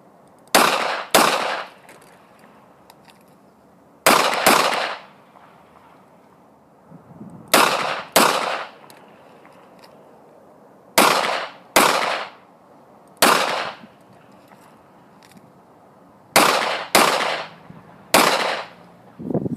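A revolver and then a second firearm fired on an outdoor shooting range, loud sharp reports coming mostly in close pairs and some single shots, spaced by short pauses, with no talking.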